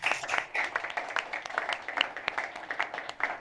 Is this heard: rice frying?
no